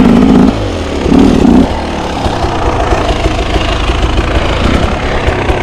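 Dirt bike engine pulling uphill in second gear, loud and close, with two short revving bursts at the start settling into a rough, steady mid-pitched drone.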